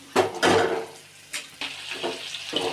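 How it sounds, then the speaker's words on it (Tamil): Tomatoes sizzle in a pan after ginger-garlic paste for a kurma, with short bursts of frying and stirring that rise and fall, close and moderately quiet. "நன்றாக தக்காளியை வணக்கவும்."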